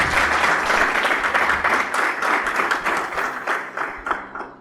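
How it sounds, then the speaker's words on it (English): An audience at a football club launch event applauds, a sustained wash of clapping with individual claps standing out, fading slightly toward the end. "Please, can we give them a big round of applause?"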